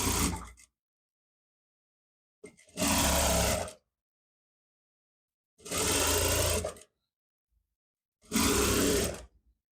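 A sewing machine stitching jogger trouser fabric runs in three short bursts of roughly a second each, separated by silent pauses. Each burst is loud and close, with a steady whirring buzz.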